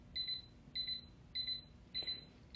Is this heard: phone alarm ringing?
yes